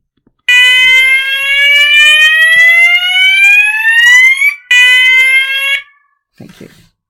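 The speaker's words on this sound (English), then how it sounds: "That's the fire alarm." A fire alarm sounds loudly and alone in a classroom, a steady harmonic electronic tone rising slightly in pitch for about four seconds, then a brief break and a second shorter burst before it cuts off.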